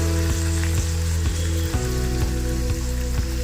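Soy sauce and tomato sauce sizzle loudly in a pan with onion and capsicum for Indo-Chinese chilli fish, a dense continuous frying hiss broken by a few soft stirring knocks.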